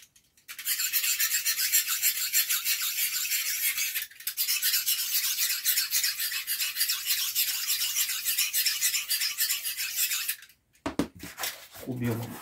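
A knife blade being sharpened by grinding, a harsh, steady rasping scrape repeated in long continuous strokes, close up, pausing briefly once and ending with a short burst of talk.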